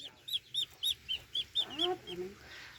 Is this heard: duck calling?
yes